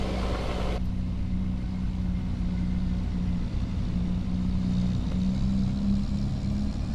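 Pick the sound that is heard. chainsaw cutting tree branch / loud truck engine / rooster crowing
loud truck engine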